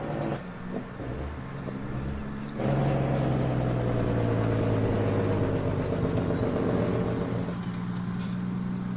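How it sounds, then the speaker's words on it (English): Heavy truck engine droning steadily in Farming Simulator 2017, rising louder around the third second and holding a deep rumble with air-brake-like hiss, with no voices over it. "These 4 trucks handle pretty good too"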